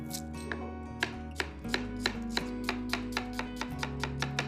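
An onion is chopped with a knife on a board in a Hindi TV cooking show, giving a steady run of close, crisp knife strikes over a sustained tonal background.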